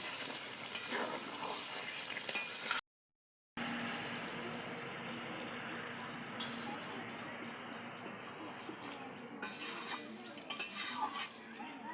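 Chicken bhuna masala being stirred in a pan over a low flame, a spatula scraping and clinking against the pan amid a soft sizzle, briefly cut to silence, then stirring noises resume in uneven bursts.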